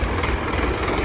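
Heavy tractor engines rumble steadily at a farmers' tractor march in Haryana, a dense, loud, low drone with no distinct beats and no voices.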